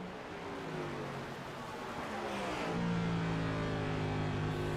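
Race car engine inside the cockpit of the No. 71 stock car at Phoenix Raceway, a steady loud drone whose pitch climbs near the end as the engine revs up, no talking.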